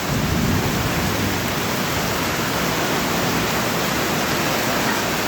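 Heavy rain pours down in a dense, steady roar with no breaks, loud and close, and no voices, during the rainy season in Solano.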